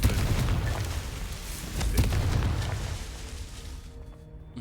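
Confringo fire spell explosions in Hogwarts Legacy, a couple of deep booming blasts with rumbling low tails, loud, then fading toward quiet at the end.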